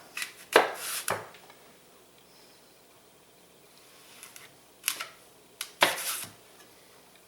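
A kitchen knife quartering an apple on a cutting board, giving a few crisp cuts and taps in two close groups separated by quiet.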